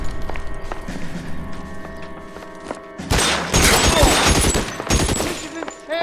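Rapid bursts of gunfire in the L.A. Noire crime game, loud volleys crackling through the second half after a quieter stretch of background game sound, with voices in the scene.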